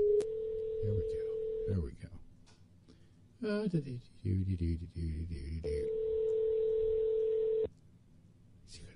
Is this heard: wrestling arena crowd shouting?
no